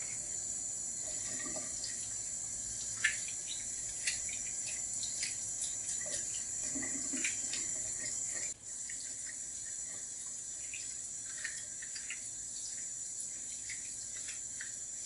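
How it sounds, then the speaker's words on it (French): Hot tap water runs steadily over the container elbows of a Wittenborg 9100 coffee machine, a continuous soft hiss from a nearby faucet with faint splashes and small knocks for about fifteen seconds. "Et nettoyez à l'eau chaude."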